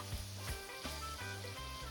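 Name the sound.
tomato searing in a pot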